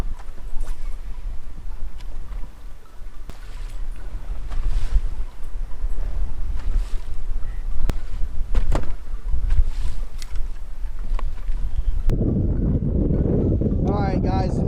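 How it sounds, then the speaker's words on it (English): Strong wind buffets the microphone over open water while someone bass fishes from a boat, a steady loud roar with gusts. A different, lower rumble takes over near the end. "I know that wind is freaking bad right now"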